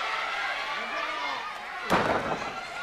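A wrestler lands a missile dropkick from the second rope in a pro wrestling match, a single sharp impact thud partway through, over crowd noise and an excited commentator.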